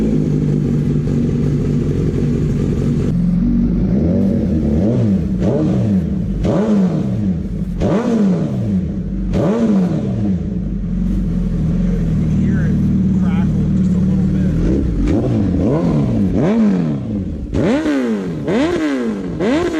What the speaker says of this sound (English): The exhaust sounds phenomenal.